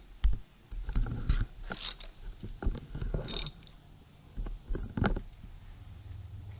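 Ratchet wrench clicking as a spark plug is tightened on a Yamaha 115 four-stroke outboard motor, irregular bursts of close mechanical clicks and knocks with brief pauses, no talking.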